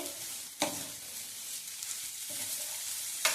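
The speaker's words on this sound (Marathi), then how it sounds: "हे पुन्हा एकदा व्यवस्थित परतून घ्यायचे." Salted and sugared toor dal mixture sizzles and stirs in a pan, a soft continuous fry with a few sharp spoon scrapes against the metal.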